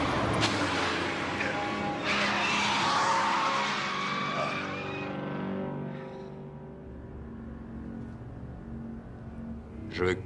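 Car revving hard with tires squealing and skidding, loud and sustained before fading away, with a brief sharp burst near the end; speech appears faintly mixed in.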